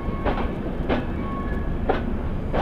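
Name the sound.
passenger train running on rails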